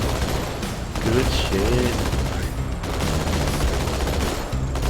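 Rapid gunfire rattles through a Halo 2 firefight, dense bursts running throughout with voices talking over the action.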